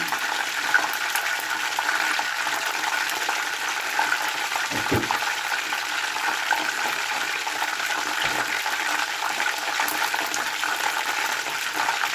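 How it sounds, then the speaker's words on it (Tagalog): Chicken pieces fry in hot oil, a steady, dense crackling sizzle that holds at an even level throughout, with a couple of faint low knocks partway through. "Fried chicken."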